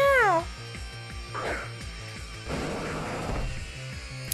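Liepard, a Dark-type cat Pokémon, lets out its cry in a Pokémon X/Y battle: a short, loud, wavering meow at the start, followed by game music and battle effects.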